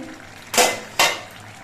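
A lid comes off a pot of simmering vegetables in a home kitchen, two quick bright metallic clatters in close succession against a quiet background.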